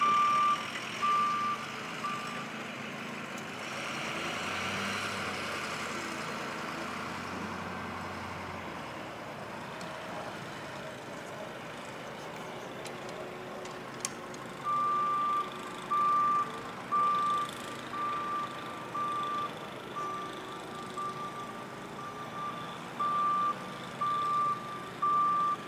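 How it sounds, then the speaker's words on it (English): Township snow plow truck backing up during a blizzard, its reversing beeper pulsing in a steady train from about halfway through, over a low engine rumble and wind-blown outdoor noise. "Here's the plowing truck of the township."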